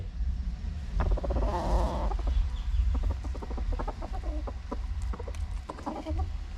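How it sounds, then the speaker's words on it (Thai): A tame decoy rooster clucks in rapid, repeated bursts close by, with quieter intermittent clucks following over a low rumbling background. "เป็นไก่โตครับ นี่เป็นไก่โต"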